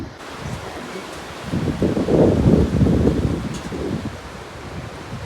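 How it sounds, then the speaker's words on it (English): Strong wind gusts roar across a suspension bridge over the river in Punakha, a steady rushing buffet that swells louder in the middle and stays close, with faint voices beneath. "It's so windy."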